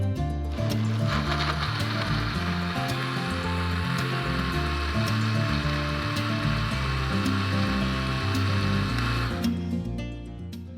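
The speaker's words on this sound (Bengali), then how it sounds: "এরপরে আমরা সবগুলো উপকরণকে একসাথে নিয়ে ব্লেন্ড করে নেব।" An electric blender whirs continuously, loud and close, mixing bael fruit sherbet ingredients for about ten seconds before the motor winds down near the end. No one speaks.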